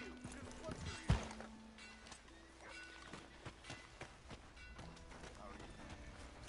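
A horse gallops in the Red Dead Redemption 2 video game, its hooves clip-clopping faintly and quickly against low game ambience, with a sharper thump near the start.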